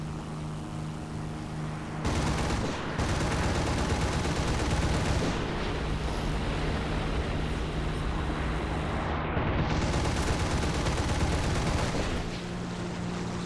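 Aircraft cannons fire in rapid sustained bursts during a diving attack in the War Thunder flight game, loud and continuous over a roaring engine drone.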